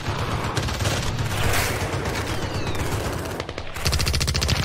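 Video game gunfire, a loud sustained burst of rapid automatic shots rattling continuously, with a brief dip before another dense volley, close and uninterrupted without speech.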